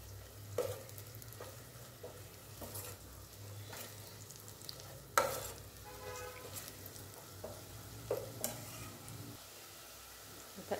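Onions fry in oil and ghee for chicken biryani, a quiet sizzle under a low hum. Scattered spoon scrapes and clinks against the pot come irregularly.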